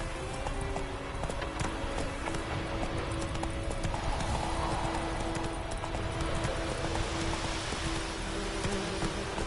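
Roach, a horse in Witcher 3, gallops steadily with continuous rhythmic hoofbeats over a constant ambient game soundscape, held at an even level for the whole stretch.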